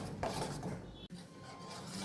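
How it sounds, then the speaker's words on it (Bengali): Mango custard mixed into boiling milk is stirred without pause in a pan, making a steady low scraping and rubbing with faint utensil clinks, close and quiet, broken by one brief gap. "এর মধ্যে মিশিয়ে দিয়ে অনবরত নাড়তে থাকলাম"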